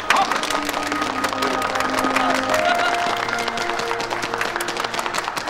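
Factory workers of an old northern factory applaud together in a steady, dense round of clapping that fills the whole stretch, with sustained musical tones running underneath.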